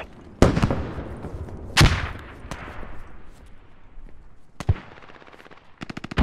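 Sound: mortar explosions landing close, from video game Squad

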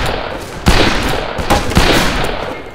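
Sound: gunfire in a shooter video game

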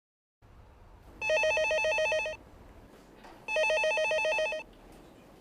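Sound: telephone ringing

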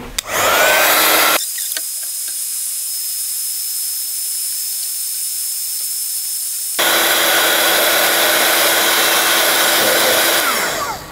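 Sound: heat tool drying a card

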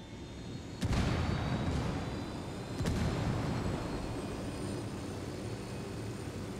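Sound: helicopter starting in video game Ghost Recon Wildlands

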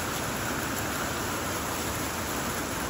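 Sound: hailstorm pouring down

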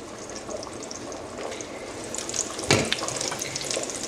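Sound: meatballs frying in a pan

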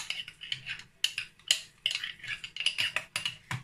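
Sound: stirring hardened coconut oil to mix it

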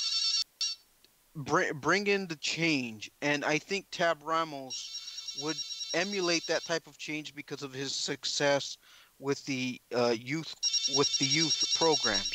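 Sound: home telephone ringing

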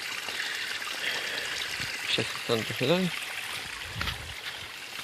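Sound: small stream of water flowing down from above

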